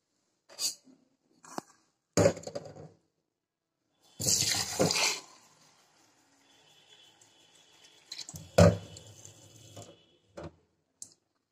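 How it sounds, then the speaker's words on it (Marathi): Short bursts of cold water splashing and pouring over freshly cooked hot sorghum grains in a vessel, separated by quiet gaps, close by with no talking. "आता ह्याच्यावर गार पाणी टाकायचं"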